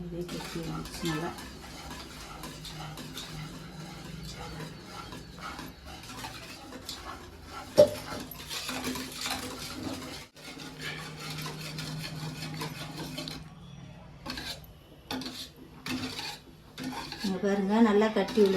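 A spoon stirs thickening ragi porridge in a cooking pot, scraping and clinking against the metal in a steady, close rhythm with a low simmering rumble underneath.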